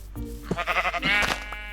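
A sheep in the Minecraft video game bleats a few times, wavering cries close and clear against a steady low game background.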